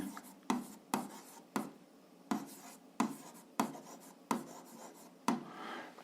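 A pen or marker writes on a board during a Ukrainian eighth-grade physics lesson on heat, making short scratchy strokes in a broken rhythm about every half second. The sound is close but quiet, with no voices.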